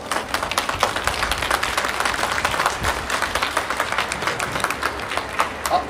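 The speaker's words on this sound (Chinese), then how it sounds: "掌声欢迎" An outdoor audience at a plaza performance claps in a dense, uneven patter of many hands, moderately loud and continuous, with no speech over it.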